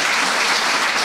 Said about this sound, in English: Can we have a round of applause for the Limerick Civic Trust